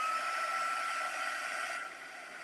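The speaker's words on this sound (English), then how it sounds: "I'm going to heat this with my heat tool." A heat gun reheats hot glue on a card, blowing a steady loud airy hiss with a tonal whine close by, easing slightly quieter near the end.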